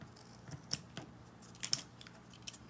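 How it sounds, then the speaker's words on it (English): Scissors snipping the tips off small craft pieces for an Easter cutting-board project, a few quiet, close, crisp cuts spread over a couple of seconds with light handling clatter between them and no talking. "All right, let me cut off the tips of these."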